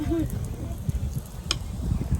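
Pork sizzles steadily on a Thai mu kratha tabletop grill, a soft hiss under low voices, with one brief metallic clink.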